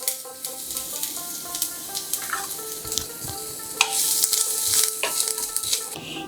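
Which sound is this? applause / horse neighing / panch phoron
panch phoron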